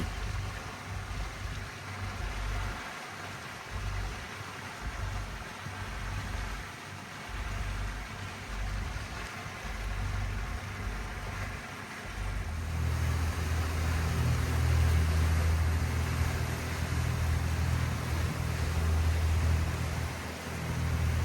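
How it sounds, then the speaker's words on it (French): A small motor boat cruises at about 8 to 9 knots off Marseille near the Frioul islands, its engine drone steady under rushing water and wind, rising louder about halfway through. "On navigue à 9 nœuds, 8-9 nœuds, voilà, petite navigation tranquille, économe en carburant."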